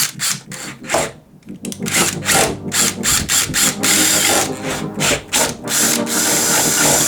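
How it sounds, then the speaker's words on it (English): A power drill enlarging a screw hole during a Classic Mini restoration whirs in short bursts, stopping and restarting with a grinding, ratcheting texture, loud and close. "I am going to have to drill it slightly bigger"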